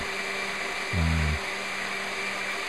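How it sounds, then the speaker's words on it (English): A blender whirs in a brief half-second burst while blending roasted chile and tomatillo salsa, a short pulse over steady background hum. "just blend everything together"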